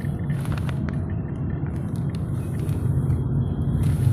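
A car travels along the road from Muzaffarnagar to Delhi, heard from inside the cabin as a steady low engine and road rumble, with light rattles and a slight swell toward the end, and no voices.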